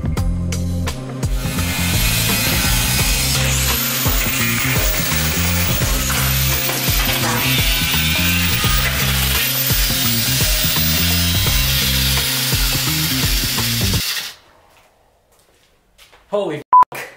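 An angle grinder cutting metal for a homemade dip station attachment for a Titan T2 power rack in a garage gym: a loud, harsh continuous grinding whine that cuts off abruptly, followed by near silence and a few brief knocks.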